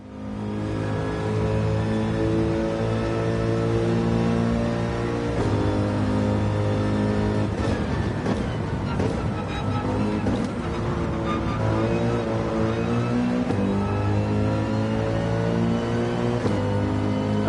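Race car engine in the Gran Turismo 7 video game, a steady loud drone with rising and falling pitch through the S turns, continuous and alone without talk.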